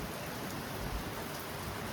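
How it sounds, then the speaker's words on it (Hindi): Rain falls steadily in the hill town of Kausani, a dense, even hiss of drops close by with no breaks or voices. "बारिश हो रही है बेहतरीन।"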